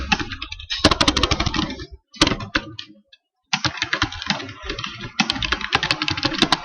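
Rapid, loud typing on a computer keyboard during web design work, keystrokes clattering in dense bursts separated by short pauses, with no voices.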